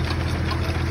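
Several tractors run steadily close by while aerating an old soil push-up golf green, giving a continuous, loud, low engine drone with a slight knocking throb and no talk.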